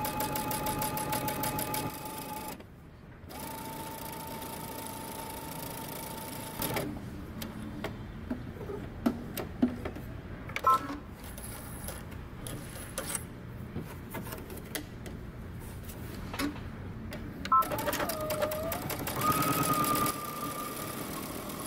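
A sewing machine runs bursts of gathering stitches along the front of a jumpsuit bodice. A steady mechanical whir and rapid needle chatter start and stop in several runs, with brief pauses and clicks between them.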